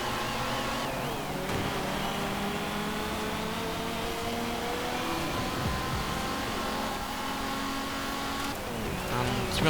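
A Ford Capri car engine revs steadily and loudly throughout, pitch sweeping up and down as it accelerates and shifts, with road and wind noise beneath.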